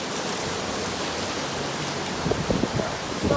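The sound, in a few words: heavy rain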